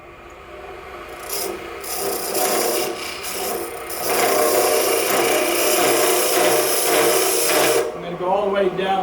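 Wood truing on a lathe as the edge of a spinning top is shaped, a continuous close scraping and rasping of the tool on the turning workpiece, loud and sustained before stopping near the end.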